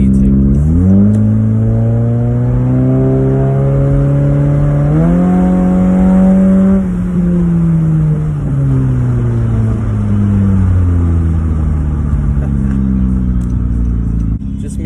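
Honda CR-Z running a KTuner V2 tune pulls along at low speed, its engine drone rising and falling through gentle revs and shifts, loud and close from inside the car.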